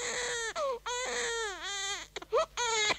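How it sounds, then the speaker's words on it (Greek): An infant wails in a children's story narration about Moses: several close, rising and falling cries with brief catches of breath between them, and no speech. "Μαμά, το μωρό μας κλαίει πάλι."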